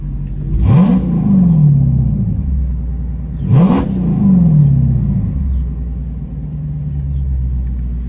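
A Chrysler 300 SRT with a straight-pipe exhaust revs twice, each sharp climb in pitch falling back to a loud, deep rumbling idle close by.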